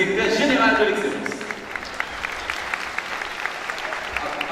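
An audience at a graduation ceremony applauds the director general: a burst of clapping that starts loud and dense, then thins into a steady patter of scattered claps across a large hall.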